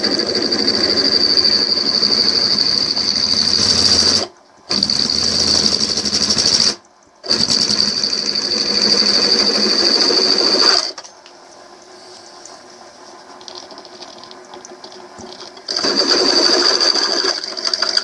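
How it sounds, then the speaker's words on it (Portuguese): Drill with an oil-wetted bit slowly boring a hole, giving a loud, steady mechanical whirr broken by two brief stops, then a quieter stretch before the drilling resumes. "E agora ir furando devagar."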